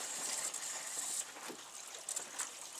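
Water rushes through newly installed underfloor heating pipes as a zone valve is opened, making a steady hissing flow with a few brief gurgling surges, heard close with no speech.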